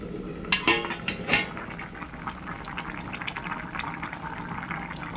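A metal lid knocks and clatters onto a cooking pot of potatoes boiling in water, several sharp clinks close together near the start, then a steady soft bubbling and hiss continues alone.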